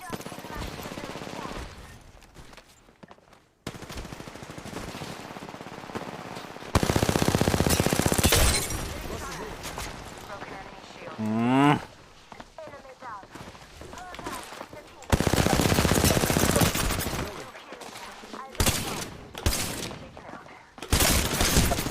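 Video game gunfire in a shooter, bursts of rapid automatic shots and loud single reports in several clusters, with quiet stretches between and a player's voice talking over parts of it.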